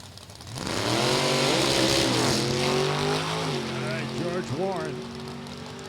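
A 1968 Camaro with a 598 cubic inch Chevy engine races at a drag strip, its loud engine roar climbing in pitch through hard acceleration and then wavering as it revs, with a public-address voice underneath.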